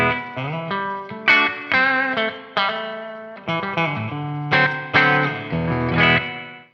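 Electric guitar through a Donner Verb reverb pedal picks out a melodic phrase of single notes and chords, each one blooming into a soft, washy reverb that smears into the next.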